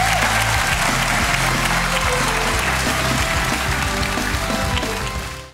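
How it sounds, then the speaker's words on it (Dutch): A TV studio audience applauds a departing guest at the end of a Dutch late-night show, loud dense clapping over a low music bed that fades out at the close. "Geef een groot applaus voor Kim van Kooten"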